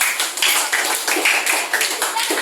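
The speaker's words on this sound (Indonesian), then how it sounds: "Kasih tepuk tangan dulu." A classroom of students gives a round of applause for a classmate, quick light claps from many hands in a bright, close burst lasting a couple of seconds.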